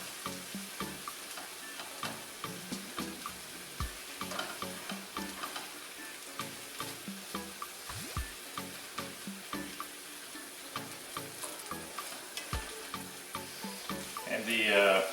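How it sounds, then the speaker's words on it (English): Kielbasa and vegetables simmer in barbecue sauce, a steady close sizzle broken by rhythmic stirring strokes that scrape and clack against the pan, continuing evenly with a louder burst at the end. "the sauce is going to cook into the kielbasa"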